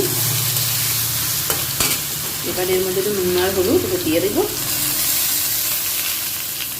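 Prawns already fried sizzle in a pan with panch phoron as they are stirred for prawn malai curry, a steady hiss and scrape heard under a person's voice partway through.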